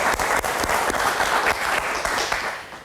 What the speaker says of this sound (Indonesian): Oke, kita kasih tepuk tangan dulu dong.